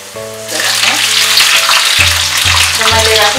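Coarsely chopped capsicum hits hot oil for chili momo, bursting into a loud close sizzle that continues steadily, with some background tones and no talk.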